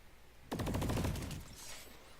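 The VX67 carbine in a video game fires a rapid, steady burst of automatic gunfire that starts abruptly and runs for about a second before trailing off into a faint echoing tail, with no speech.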